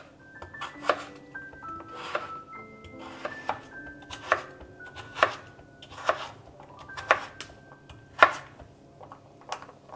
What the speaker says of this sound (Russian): 5 средних картофелин я нарезаю не крупными кубиками.